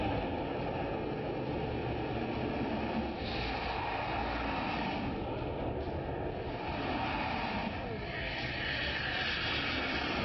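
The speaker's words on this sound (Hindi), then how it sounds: "देखिए कैसे लड़ाकू विमानों ने सड़क को चूमा।" Indian Air Force fighter jets land on the Lucknow-Agra Expressway with a loud, continuous engine roar that holds steady throughout, swelling slightly in places.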